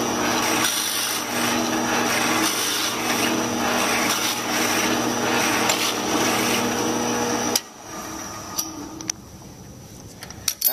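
Steady grinding, rasping noise of a hand drill boring through pine, continuous for several seconds, then stopping abruptly with a few small clicks and knocks.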